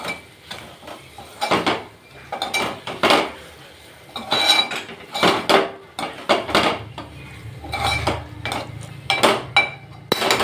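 A spoon scrapes and clinks against a pan while Andhra-style chicken liver fry is stirred, giving repeated close metallic knocks in an uneven rhythm.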